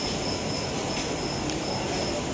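A train at Asarva Junction railway station in Ahmedabad gives a loud, steady rumble of wheels and carriages with a faint squeal, heard close and continuous, with no talk.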